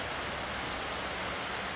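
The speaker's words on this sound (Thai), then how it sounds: "โอ้ฝนเนาะ" Steady, dense heavy rain hisses evenly throughout, a constant wash of falling drops with no other sounds standing out.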